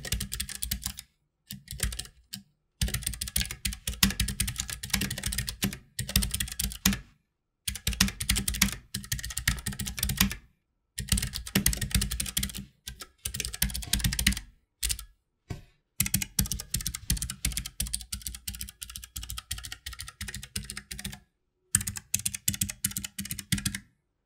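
Rapid, dense clicking of fast typing on a Keychron K3 ultra slim hot swappable optical mechanical keyboard, close and crisp, in bursts separated by short pauses, with no talking.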